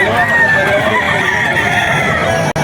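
A gamecock rooster crows in one long, drawn-out call lasting a couple of seconds, with a busy background of other noise around it.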